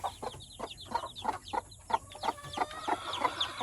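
Chickens cluck and newly hatched chicks peep rapidly on a farm, bright overlapping chirps repeating close by at a steady busy pace, with no talk.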